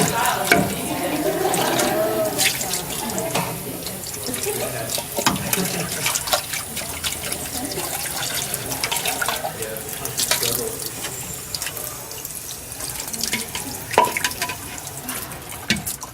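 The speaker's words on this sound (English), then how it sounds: "Watch out for splashing behind me in case this starts getting a little more violent." Water runs from a kitchen tap and splashes into a sink, a steady rushing, spattering stream with irregular splashy bursts throughout, fairly close and continuous.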